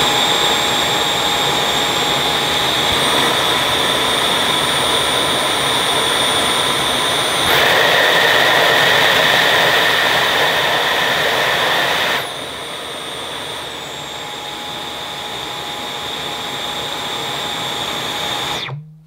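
A Dyson V12 Detect cordless vacuum runs over carpet with a loud, steady high-pitched whine, rising in pitch midway as the power setting changes, then dropping back before it cuts off.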